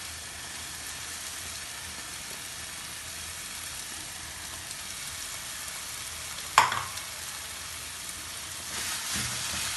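Khoya roasting in hot ghee in a pan for lauki halwa, a steady soft sizzle and frying hiss with one sharp clatter partway through and light stirring scrapes near the end, no talking.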